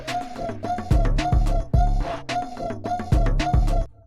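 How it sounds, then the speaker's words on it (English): Boss-fight music from the video game Another Crab's Treasure, a loud, driving club-style track with a heavy pulsing bass beat and bright synth layers, playing alone before cutting off near the end. "It's another Crab's Treasure boss music. And it sounds like this."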